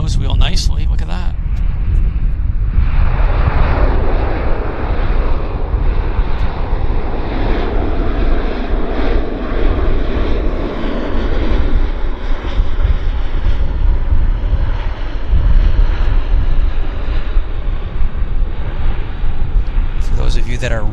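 Airplane engines at Vancouver Airport rumble loud and continuous with a low roar while a plane taxis, a steady wash of engine noise holding for the full stretch, with talk in the background.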